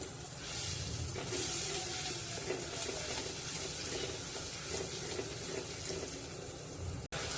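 Tomato and spice masala for Amritsari chole sautés in oil on low heat, a soft, continuous sizzle with faint stirring scrapes, close and quiet with no voices.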